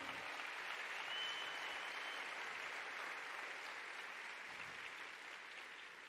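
A church congregation gives a strong, sustained round of applause to the Lord, dense even clapping throughout that eases slightly near the end.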